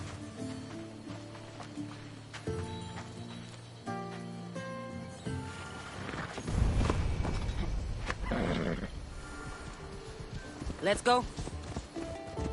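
A horse in Assassin's Creed Odyssey sets off with a whinny and rapid hoofbeats over game music, with characters talking throughout.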